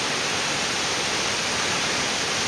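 Cheonjiyeon Waterfall in Seogwipo, Jeju, pours with a heavy water flow: a steady, dense, broadband roar that fills the clip without pause, loud and continuous with no voices over it.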